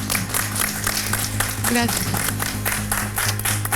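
A studio audience on the Spanish-language show El Valor de la Verdad applauds a guest, a steady patter of clapping mixed with music and a brief spoken thanks.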